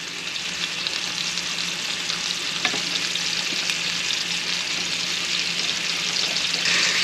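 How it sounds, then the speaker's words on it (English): Unseasoned meat searing in a hot pan, a dense, constant loud sizzle close up with a couple of faint clicks, no speech. "I just want to get the sear on them."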